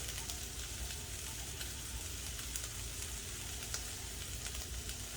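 Ginger, garlic and chili pepper sizzle softly in a pan for a yellow bean sprout stir-fry, a steady quiet crackle with faint ticks, heard alone.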